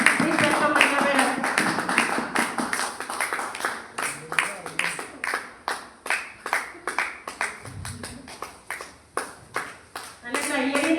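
An audience claps in a series of sharp, rhythmic, fairly close hand claps that fade and restart, with a voice speaking before the clapping and again as it trails off.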